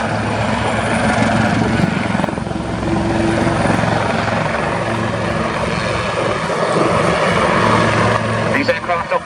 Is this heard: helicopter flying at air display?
yes